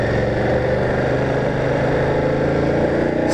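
A BMW F850 GS Adventure motorcycle with its standard exhaust runs at steady speed on a road, a continuous throbbing engine drone mixed with wind rush, loud and close throughout.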